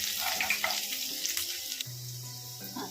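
Garlic fries in hot oil in a pan for a palak dal curry, giving a soft, steady sizzle with faint kitchen clatter. Nobody speaks.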